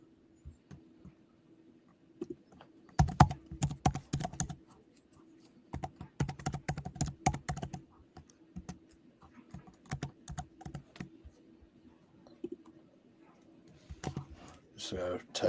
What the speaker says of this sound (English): You're typing in on the fly.